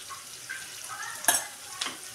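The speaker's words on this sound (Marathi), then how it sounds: "छान असं परतून घ्यायचं याला" Ingredients for lemon rice are sautéed with turmeric in a pan, a soft close sizzle with a couple of sharp spoon scrapes against the metal and no talking.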